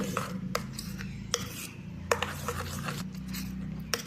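A spoon clinks and scrapes against a bowl while stirring egg with Maggi masala spice mix, a brisk run of light metallic taps close up with no talk.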